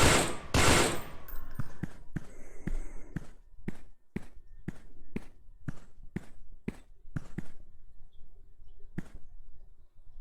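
Repeated sharp gunshots from a weapon in the VR shooter Special Force VR: Infinity War, fired in a steady series of evenly spaced single shots, close and clear, with a denser burst at the start.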